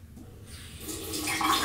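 Water from a tap wetting a cotton round, quiet at first and then swelling into a steady rushing flow over under two seconds.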